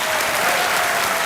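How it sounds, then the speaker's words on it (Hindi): A television game-show studio audience claps loudly, a dense continuous burst of applause filling the room. "इसके लिए एक बार फिर जोरदार तालियां बज जाए इनके लिए।"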